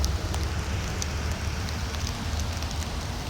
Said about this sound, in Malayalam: കണ്ടില്ലേ, മഴയാണ്.